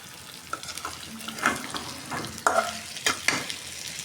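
Meat and spices stir-fried (kosha) in a kadai/wok for a Shab-e-Barat meal, spatula scraping and clattering in irregular bursts over a steady background sizzle of hot oil, close and moderately loud, with no talking.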